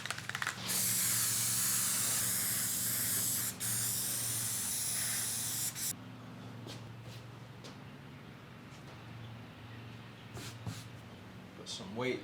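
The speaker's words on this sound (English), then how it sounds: "Right now, I'm gonna spray some of this adhesive stuff on the backs of these vinyls." An aerosol can of spray adhesive hisses loudly onto the backs of vinyl car seat upholstery pieces in two long bursts, then cuts off, leaving quieter room noise with faint handling sounds.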